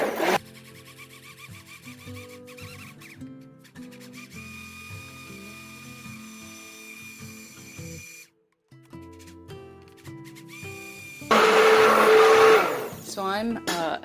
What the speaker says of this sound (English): So I'm actually blending this just on the low setting of my blender, not the high setting.